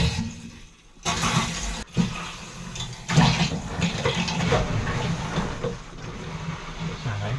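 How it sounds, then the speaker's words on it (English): Mains water rushing into a vented hot water cylinder, a loud turbulent gushing and hissing with sharp surges near the start, then a sustained filling roar; a voice briefly speaks over it. "So that's filling the cylinder."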